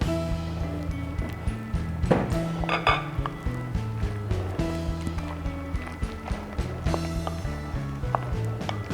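Boiled macaroni is stirred in a bowl, giving repeated clinks and scrapes of a utensil against the dish over a steady low hum of background music.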